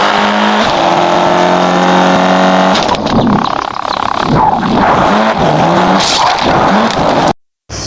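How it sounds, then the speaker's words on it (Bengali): A car in the Drive Zone Online racing game accelerates hard along a race track, its engine roaring loudly and continuously with rising pitch and gear shifts, a brief cut to silence near the end. "যাই রেস ট্র্যাকে খালি এরিয়ায় অনেক জোরে টান মারবো"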